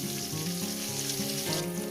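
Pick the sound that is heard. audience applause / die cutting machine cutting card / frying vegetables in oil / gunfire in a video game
frying vegetables in oil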